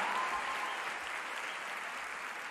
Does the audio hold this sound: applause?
yes